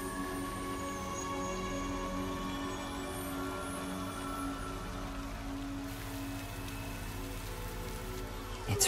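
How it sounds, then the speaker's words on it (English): Game rain from Master Detective Archives: Rain Code Plus falls as a steady soft hiss over a layered, sustained musical drone, with a brief louder rustle at the very end. "It's raining."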